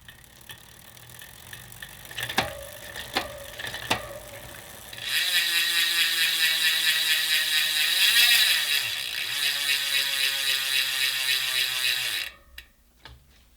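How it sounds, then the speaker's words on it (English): Freehub ratchet on Farsports EVO C6 wheels with a 36-tooth star ratchet and ceramic bearings: a few separate clicks, then a loud, fast continuous buzzing whir that holds steady and cuts off abruptly. "Free hub sound test on these Farsports EVO C6 wheels with a 36 tooth star ratchet engagement"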